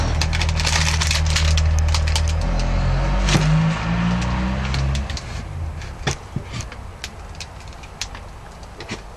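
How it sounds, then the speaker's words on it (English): Wooden knife handle pieces squeezed down with quick clamps and main clamps, a loud low grinding creak through the first five seconds, then scattered sharp wooden clicks and knocks at close range. "use some quick clamps just to stop the pieces of wood rotating or swiveling as I tighten down"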